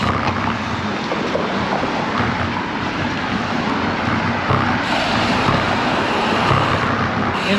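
Wind rushes past while riding a bike along a roadside, a loud, continuous broadband roar that stays steady and unbroken throughout.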